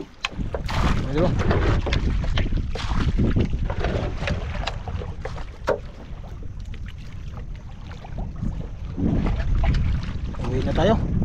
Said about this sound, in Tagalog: Lakas na ng hangin mga idol.